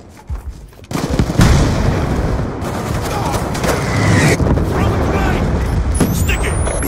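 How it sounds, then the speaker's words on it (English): Rapid Black Ops 2 gunfire, including shots through walls, rattles in dense, sustained bursts during a Demolition match, loud and close with booming impacts, while a player talks over parts of it. "shooting through the walls"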